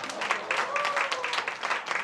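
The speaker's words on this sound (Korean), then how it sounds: "잘했어요. 박수하겠습니다." A small congregation at a church service claps together in a brief burst of scattered applause, with a voice heard alongside.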